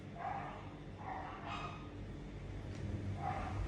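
Several dogs bark in repeated bursts against a constant background hum, the barks fairly close and recurring every second or so with short gaps between.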